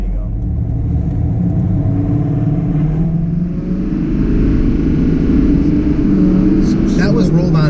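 A deleted LML diesel pickup truck accelerating hard, a deep steady engine roar building in rumble and pitch over several seconds, with someone talking over it.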